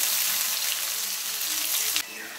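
Chopped onions and whole spices (cumin, black cardamom, cinnamon, chilli, bay leaf) frying in mustard oil give a steady, close, loud sizzle that drops a little near the end.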